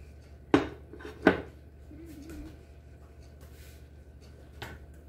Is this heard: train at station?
no